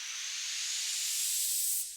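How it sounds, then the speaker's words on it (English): Riser effect in an amapiano pre-drop: a bright, hissing noise sweep that climbs steadily in pitch and swells slightly in loudness over two seconds, then cuts off abruptly near the end, with no other sounds. "Next there's the riser"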